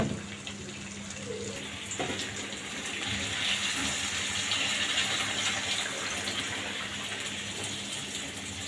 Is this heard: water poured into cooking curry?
yes